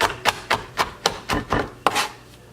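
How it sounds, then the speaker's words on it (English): A knife taps rhythmically on a cutting board while mincing fresh garlic slicked with olive oil. About eight crisp, close chops fall at a steady pace over a few seconds, with no voices. "when you're mincing herbs, especially garlic"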